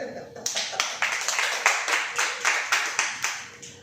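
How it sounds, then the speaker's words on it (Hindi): A congregation claps together at a Christian preaching gathering, sharp claps falling in a steady, even rhythm about two or three per second, with voices mixed in. "आइए ताली हो जाए"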